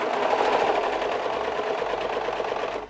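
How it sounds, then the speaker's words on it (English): A serger sewing machine runs steadily, stitching thread along the edge of a linen tea towel, a close, continuous whirring hum that holds for nearly three seconds before cutting off. "Pull it over to where your needles are going to go and serge this string"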